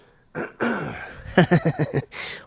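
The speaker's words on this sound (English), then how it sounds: "Gotta clear my throat." A man clears his throat up close, a rough rumble followed by a rapid series of short pulsing grunts, then a brief voiced sound.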